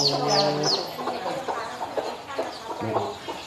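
Chickens clucking on a Thai farm, a series of short nasal clucks and squawks from close by, with some faint background noise.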